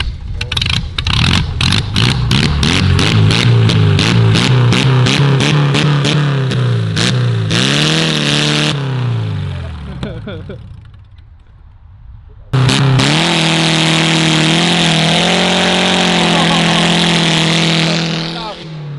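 A VW Golf engine running on fryer fat instead of motor oil revs hard and repeatedly, its pitch climbing and dropping in rapid surges, briefly falling quiet before roaring back at a sustained high rev.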